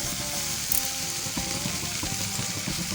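Cooked rice stirs into a hot pan of pepper mixture for Tamil pepper rice, a continuous close sizzle with soft scraping strokes of a spoon repeating at a steady pace.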